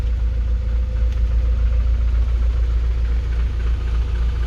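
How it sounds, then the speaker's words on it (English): A 1984 Ford Transit light truck with a 2.5 liter four-cylinder diesel idles steadily, a deep continuous rumble with faint knocking, heard close and alone. "it's a diesel engine and it runs okay. It's a common sound for an older diesel engine."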